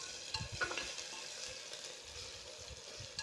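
Coriander is stirred into a sizzling tempering for masala rice, a quiet continuous frying hiss with soft spoon scrapes and taps against the pan in a loose rhythm.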